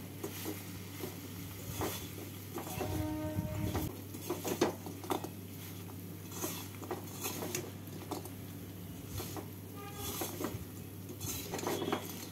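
Khurma is stirred with sugar in a pan, a utensil scraping and clinking against the metal in repeated soft strokes over a faint steady sizzle, with a louder clatter near the start, no talking.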